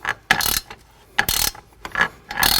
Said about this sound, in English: This will be your first bolt you're going to want to tighten.